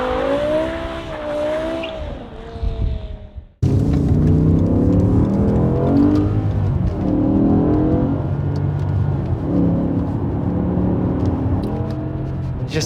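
A BMW E60 M5 engine with a new intake, revving and accelerating loudly and close, its pitch rising and falling in a sustained run after a short first burst.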